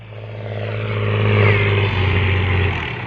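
Farm tractor engine running during field ploughing, a loud steady low drone that swells slightly near the middle, with voices speaking over it.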